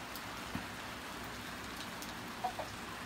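Steady rain patters outdoors as a broad, even wash of noise, with a few faint clucks from nearby turkeys and chickens in a pen.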